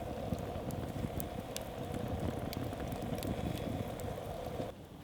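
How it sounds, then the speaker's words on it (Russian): Bracken fern boils in a pot of water at a forest dugout camp, a steady, close bubbling and seething hiss with scattered small pops, continuous until it drops away sharply near the end. "Тем временем папоротник орляк закипел."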